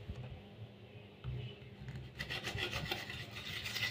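Pizza dough rounds cut with a drinking cup pressed on a marble counter give a close, soft rubbing scrape that repeats irregularly and grows busier toward the end, with no voices.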